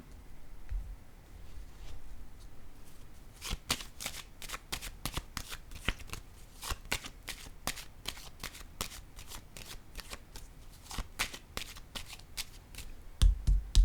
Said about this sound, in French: Je vais déposer une carte encore ici.